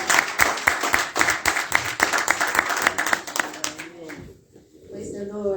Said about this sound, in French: Nous mettons ensemble à applaudir celui qui a parlé